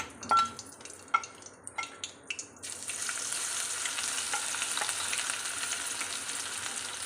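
Ingredients for mango curry fry in a pan, first with a few sharp spits and crackles. Then a steady, loud sizzling hiss begins and continues to the end.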